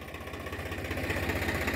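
A Swraj 744 FE 4 Star tractor engine drones steadily while pulling a 14-disc harrow, a close, continuous low throbbing with a regular pulsing rhythm and no talk.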